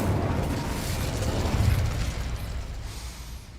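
Incendio fire spell blasting in Hogwarts Legacy, a dense roaring burst of flame with a deep rumble that stays loud and slowly tapers off.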